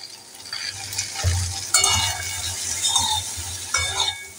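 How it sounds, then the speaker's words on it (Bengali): Okra (ladyfinger) being stirred as it fries in a pan with red chili powder, a hissing sizzle broken by a few sharp scraping and clinking strokes of the spatula against the pan, close and without talk. "আবার একটু নাড়াচাড়া করে দিয়ে এবার ঢাকনা দিয়ে চাপা দিয়ে দেব"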